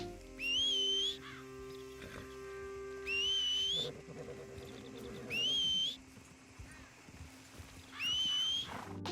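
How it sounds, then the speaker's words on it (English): Four loud, rising whistles from Arthur in Red Dead Redemption 2, each about a second long and evenly spaced, with a quieter background of hoofbeats and ambient game sounds in between. "I will obviously let you hear Arthur's full energy whistle."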